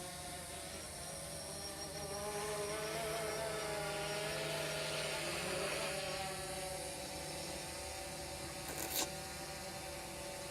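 Camera drone hovering about 116 feet up and 200 feet away, giving a steady, continuous propeller buzz with an insect-like whine, fairly even in loudness, with a brief sharp click near the end.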